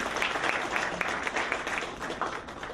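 An audience at a corporate awards ceremony in Tampa, Florida claps in a dense, steady patter that holds at a moderate, slightly distant level through the whole stretch.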